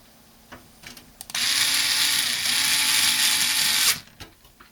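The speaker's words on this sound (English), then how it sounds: "I'm going to go ahead and pop this back into place and remount the screws" Electric screwdriver driving screws back into an HP computer case: a few faint clicks and taps, then one loud continuous whirring burst of about two and a half seconds, followed by quiet handling noises.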